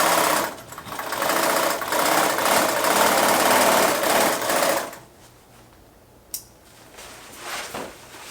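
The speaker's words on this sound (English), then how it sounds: "So now I'm just going to sew, I'm just going to do two seams, two of these bottom seams onto the bottom of the main body of the backpack," Sewing machine stitching the bottom seams of a DIY dry bag backpack, a fast steady mechanical rattle for about five seconds that then stops, leaving quiet room tone with a brief click.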